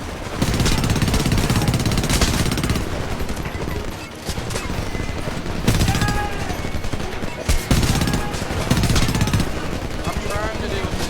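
Rapid automatic machine gun fire in the war shooter Homefront, loud and dense bursts filling most of the stretch with brief lulls, mixed with game battle noise and shouted voices.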